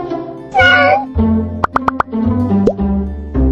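An animated cat meows several times in a children's lesson about place words, mixed with quick cartoon plops and pops in a bouncy, close sequence.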